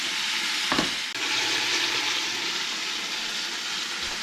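Oxtails sear in a hot pan with a steady, loud, dense sizzle throughout. A brief thump of movement near the start breaks it.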